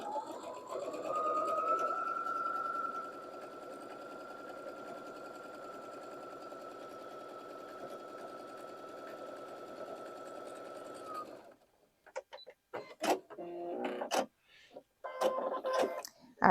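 A sewing machine stitches a half square triangle quilt block in one steady, continuous whir with a pitch that holds level for about eleven seconds, close and clear, then stops and leaves a few scattered clicks and handling noises.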